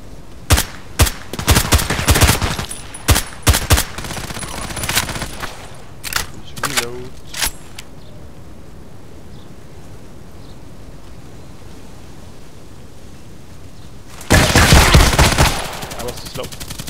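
SR3M compact assault rifle fired in a Contract Wars death match, rapid full-auto bursts in quick succession, loud and close, followed by a quiet pause and then one more sustained burst near the end.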